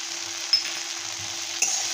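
Okra stir-fried with homemade masala and a little Maggi masala sizzles steadily in a pan, with a couple of brief stirring clatters over the constant hiss. No one speaks.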